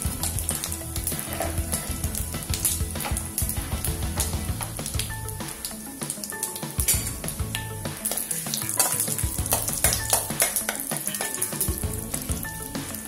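Cumin seeds, a cinnamon stick, cardamom, cloves and asafoetida crackle and sizzle loudly in hot oil in a close pan, with a continuous fizz, sharp pops and a spoon stirring through it.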